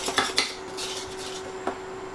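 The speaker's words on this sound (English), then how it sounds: "you're just mixing it together until it's all together" Apple cake batter is stirred in a bowl with a utensil, giving a few sharp clinks against the bowl followed by softer scraping and mixing sounds, close and without voices.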